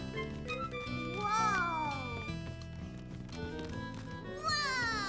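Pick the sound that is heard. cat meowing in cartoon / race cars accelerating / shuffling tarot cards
cat meowing in cartoon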